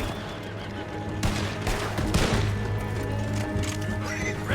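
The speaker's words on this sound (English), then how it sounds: "See the horses?" Horses neigh and whinny amid busy game ambience in Red Dead Redemption 2, set against a constant low hum, with a louder burst of clattering noise near the middle.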